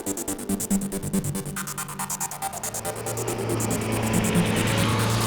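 A 2014 Renault Duster AWD drives along a road, a steady engine drone and road rumble that swells as it gets going, with pulsing rhythmic whooshes early on and no voices.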